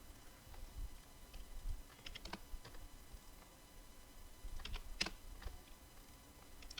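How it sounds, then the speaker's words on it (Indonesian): Quiet typing on a computer keyboard, with scattered key clicks and small bursts of taps over faint background noise, heard close and without talk. "Jadi ketik sesuatu di kode item, lalu enter."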